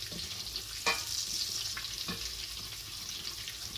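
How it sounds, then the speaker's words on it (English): Ginger browning in a hot frying pan gives a steady, close sizzle and crackle, with a couple of soft stirring knocks. "And then you brown the ginger a little bit also."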